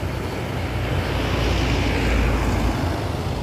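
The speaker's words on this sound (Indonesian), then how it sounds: "aktivitas truk-truk buat menanjak" A dense, loud engine roar and rumble, steady and close, as trucks climb a hill at Bukit Kodok, with no break or pause.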